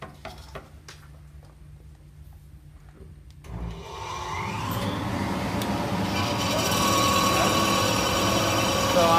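A band saw in a workshop starts up and runs, its motor hum rising after a few seconds into a steady, fairly loud whine that builds slightly toward the end, following some scattered clicks and handling noises.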